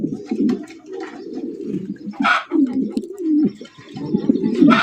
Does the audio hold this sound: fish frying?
no